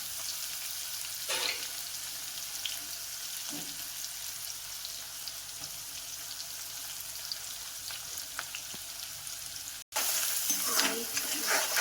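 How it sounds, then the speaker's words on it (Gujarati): Garlic, onion, chilies and curry leaves fry in a pan with a steady, soft sizzling hiss. Occasional light scrapes and taps come from stirring, and the sizzle grows a little louder near the end. "થોડા ચલા દઈશું લસણ ને ડુંગળી મરચાં અને મીઠો લીમડો"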